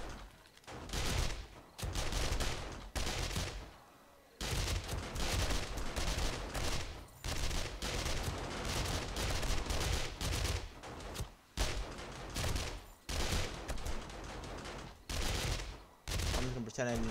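Bursts of rapid gunfire rake a zombie horde in the game 7 Days To Die, loud and sustained in long volleys broken by brief pauses, with no voices.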